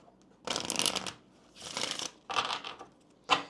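Kipper cards shuffled for a tarot reading: four separate close riffling bursts, the first three about half a second each, the last a brief snap.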